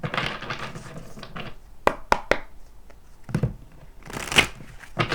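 Tarot cards shuffled by hand at close range: soft papery riffles and rustling with several sharp snapping cracks scattered through, no voices.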